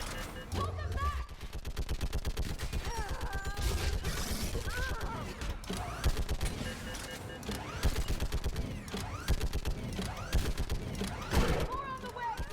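Gunfire in the video game Mass Effect, with rapid bursts of shots over a busy battle soundscape and game voices talking throughout.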